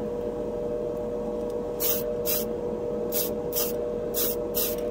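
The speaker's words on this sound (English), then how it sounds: "painting a car or a Gundam with the spray can" Several short hissing bursts of a Tamiya clear-colour spray can painting a Gunpla model piece, in quick pairs with pauses between, over a steady background hum.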